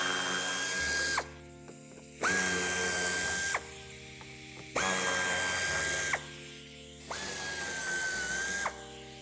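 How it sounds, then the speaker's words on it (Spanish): A power driver whirs in repeated bursts, backing out Torx 25 screws from the wheel arch liner of a 2007-2016 Volkswagen Tiguan, each high steady whine lasting about a second with short pauses between, close and loud. "quitaremos los 3 tornillos del interior del pase de ruedas y un último en la parte inferior, todos ellos de Torx 25"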